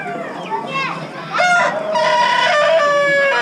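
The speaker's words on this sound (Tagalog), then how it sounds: "Pangit naman tilahok mo." Several roosters crow repeatedly at a small animal auction, loud overlapping calls with clucking fowl around them and people chatting in the background.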